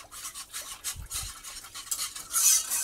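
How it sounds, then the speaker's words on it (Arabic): A spoon stirs milk, cornstarch and sugar in a saucepan, giving a steady soft scraping and swishing in repeated strokes, close and moderately quiet. "غادي نخلطوا هاد المكونات مزيان يذوب لينا النشا"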